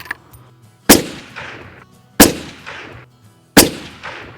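Three loud .308 rifle shots ring out at spaced intervals, each a sharp crack followed by a ringing echo that fades before the next.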